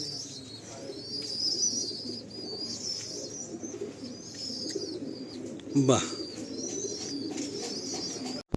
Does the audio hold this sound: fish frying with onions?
no